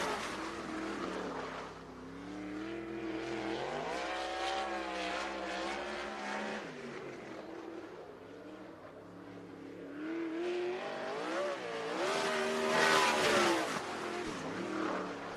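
Sprint car racing at Sunset Speedway Park on a Western Sprint Tour night: a sprint car engine roars and revs steadily, pitch rising and falling through the laps, loud and continuous with no talk.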